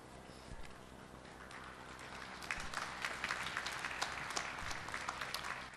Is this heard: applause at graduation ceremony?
yes